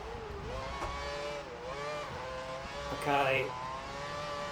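A Caterham Formula One car in the F1 2012 video game at the British Grand Prix, its engine whining and shifting pitch as it brakes and downshifts, with a brief higher rasp near the end and someone talking over it.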